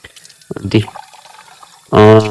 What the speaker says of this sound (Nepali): पानी छुट्यो यहाँ चिसो पानी आयो